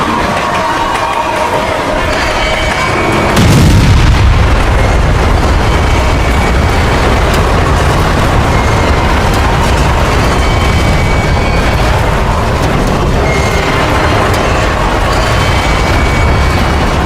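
A sudden loud boom and crash of a train collision erupts a few seconds in, followed by a long, heavy roar of grinding and rumbling debris.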